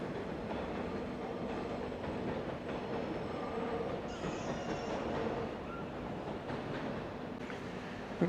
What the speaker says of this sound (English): the train that was just on here, that's going to go in the siding, which is just going in the siding now